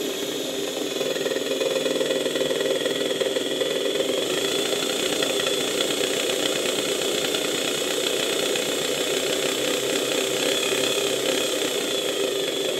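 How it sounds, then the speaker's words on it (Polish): A faulty old Electrolux vacuum cleaner motor runs irregularly, a steady drone with a rough, uneven buzzing texture, loud and close, with no voices. "Ten silnik po prostu nieregularnie pracuje, zwłaszcza jeżeli podniosę nieco napięcie."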